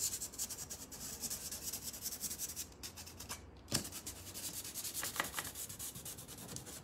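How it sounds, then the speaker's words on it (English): Sandpaper rubs over a painted washstand, lifting paint and a decorative transfer, in close, continuous scratchy strokes with a few brief pauses. "So I would just sand right over it."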